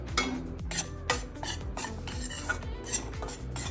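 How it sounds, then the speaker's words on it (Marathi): Wheat being stirred as it roasts in a pan for jaggery-and-ghee lapshi, a quick series of scraping sweeps and light metallic clinks from the spoon against the pan, close and steady, with no talking. "ह्याला ना असं कंटिन्यू हलवत राहायचंय जेणेकरून ते डायरेक्ट खालूनच एकदम लालसर होणार नाही"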